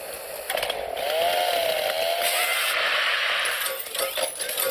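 Chainsaw item whirring in the fireplace game Little Inferno, a steady buzzing drone with wavering pitch that holds for several seconds at moderate loudness, with no voices over it.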